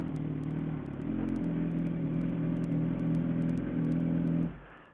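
A Harley motorcycle engine idles and revs inside a garage, a loud, close, throbbing rumble with a steady rhythmic pulse that swells slightly before cutting off near the end, no talk.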